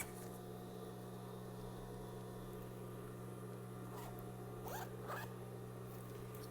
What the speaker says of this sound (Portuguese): Fecha o zíper.